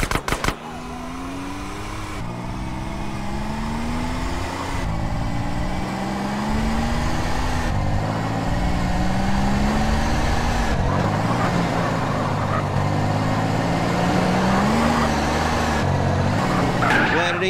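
A car engine revs and shifts through rising gears for a sustained stretch, with tire squeals and skidding, as the vehicle speeds through the streets in GTA San Andreas; a voice briefly speaks over it.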